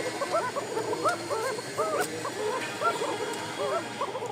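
Pigeons cooing in a loft where birds are being shown for sale, giving a continuous run of soft, warbling, repeated calls close by over a faint background hum.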